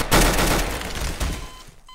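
Gunshots in a Garry's Mod duel ring out as a loud, sharp blast with a long noisy tail, followed by a second crack about a second later that fades out, with no talking.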